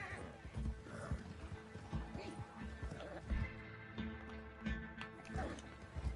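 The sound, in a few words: horse in video game Red Dead Redemption II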